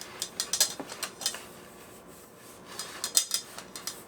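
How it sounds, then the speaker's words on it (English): Spoon scraping and clinking against a bowl while peach cobbler ingredients with cinnamon, vanilla and butter are stirred, in short irregular bursts of light scraping, close and fairly quiet. "Now we're going to stir this up."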